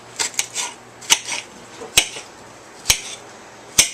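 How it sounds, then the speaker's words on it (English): Venison and peppers chopped with a knife on a board: sharp, clicky knife strikes, a quick cluster at first, then single chops spaced about a second apart, close and distinct. "So we're going to chop this up."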